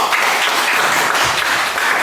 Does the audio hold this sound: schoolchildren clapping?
yes